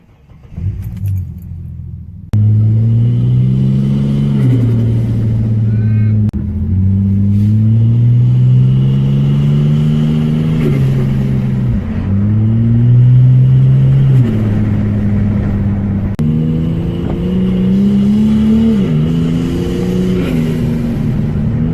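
A Ford BA Falcon's Barra engine, converted with a new eBay turbo, drones steadily while driving, its pitch rising and falling through repeated revs and gear changes, loud and close throughout.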